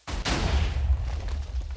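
A cannon fires in a Minecraft PvP tournament match: a sharp blast lands early and then gives way to a heavy, rolling boom that rumbles on to the end, loud and close.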